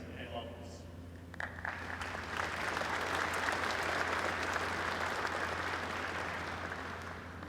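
Applause from the audience at a military change of command ceremony for the 104th Fighter Wing, a broad steady clapping that swells after a couple of seconds and holds, heard at a distance over a low hum.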